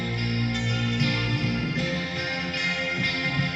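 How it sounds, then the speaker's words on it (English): Distorted electric guitars hold thick, sustained power chords in a produced rock-style mix, steady and fairly loud with chord changes every second or so and no voices. "they do always have distorted electric guitars in them"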